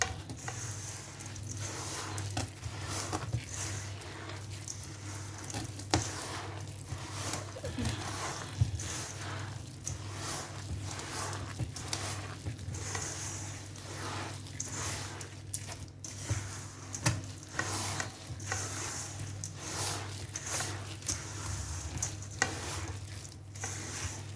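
Sugar and honey body scrub being mixed by hand, a soft continuous gritty stirring with repeated squishy strokes, close but quiet.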